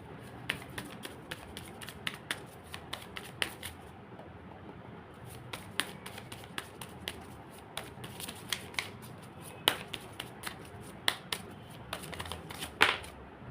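Tarot cards are handled and set down in a pick-a-card reading, making a run of soft, close, irregular card taps and slides with brief pauses and no speech.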